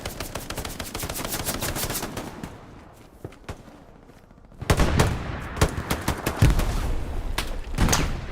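Rapid gunfire bursts in the World War II shooter Hell Let Loose during a competitive match, loud and close with sharp repeated shots, a brief lull, then heavy firing resuming.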